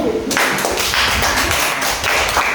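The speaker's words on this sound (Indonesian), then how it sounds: "Beri tepuk tangan untuk kelompok 1" Classroom applause for a group of elementary school students, a burst of many hands clapping close and loud for about two seconds, with tapping and thumps mixed in.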